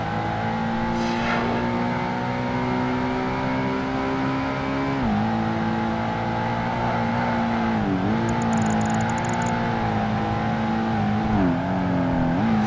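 Racing car engine in the Project Gotham Racing 2 video game drones steadily and loudly for the whole stretch, pitch dipping and climbing at several points as the car brakes and accelerates through corners, with no talk over it.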